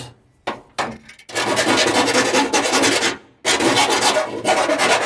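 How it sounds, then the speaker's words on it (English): A hand file rasps back and forth to deburr sharp metal edges, making close, loud, steady scraping strokes in two bursts separated by a brief pause. "Let's deburr some of these sharp edges."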